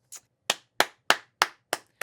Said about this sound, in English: let's give Elle a round of applause